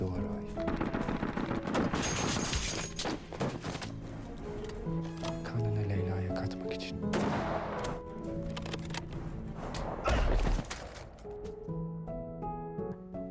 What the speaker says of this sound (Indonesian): Beberapa anggota ISIS yang tersisa dihabisi Arif dengan senapan snipernya.